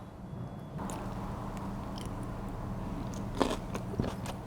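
Someone bites into a crunchy plant-based bowl topped with dried minced garlic and onion and parsley, giving a few close, sharp crunches and crackles amid quiet chewing, no speech.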